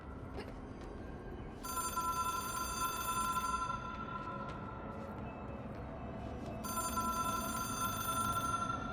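A telephone rings in the video game Control, two long bursts of a bright electronic ring separated by a pause, heard over a steady low background hum.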